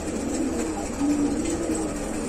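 Pigeons coo softly inside a pigeon-selling shop in Meradiya, a short low burbling call rising briefly amid steady room noise.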